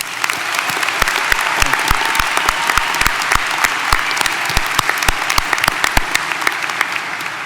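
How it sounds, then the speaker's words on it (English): Loud, sustained applause from a large audience at a Princess Anne High School graduation ceremony for the class of 2019 honors the educators, a dense, even clatter of many hands clapping that continues throughout. "giving these fine educators a well-deserved round of applause"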